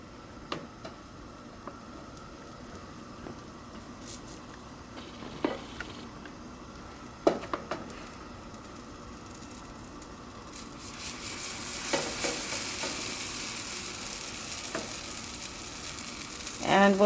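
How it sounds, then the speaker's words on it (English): Small ripe plantain pancakes fry in a hot pan with a low, steady crackle and scattered ticks, the sizzle swelling louder in the second half. "we're going to put this here and start frying it"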